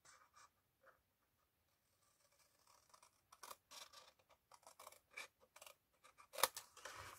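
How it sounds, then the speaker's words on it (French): Scissors cutting along traced pencil lines on paper or card for a windowed gift box, faint, close snips and crisp rustling clustered in irregular bursts, with no talking. "nous allons prendre notre paire de ciseaux et nous allons les couper"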